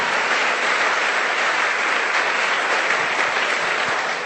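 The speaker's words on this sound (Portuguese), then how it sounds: "dê o seu melhor aplauso a Jesus nessa manhã" A church congregation at a Sunday morning service applauds together, a continuous even wash of clapping from many hands, steady and fairly loud throughout.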